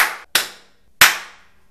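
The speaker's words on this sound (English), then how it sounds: "creating like a sudden loud noise, like clapping your hands" Sharp hand claps inside a tiled shower: three loud, close claps, each followed by a bright reverberant tail that rings out and decays over a fraction of a second, with no voices.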